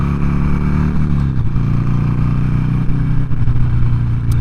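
A Harley-Davidson Sportster 883 with 36,000 miles idles close by, its loud, steady, lumpy engine rumble continuous and unbroken by speech.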